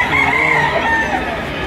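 A rooster crows amid a busy chicken market behind SM Lipa in Lipa City, Batangas, a steady dense bed of fowl calls and crowd noise running throughout.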